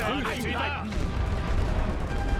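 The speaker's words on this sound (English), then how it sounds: "Start bombarding anything that's in that section of trench" Artillery shelling a trench section in Great War Western Front, with deep booming impacts and rumbling blasts rolling through the clip, partly under a talking voice at the start.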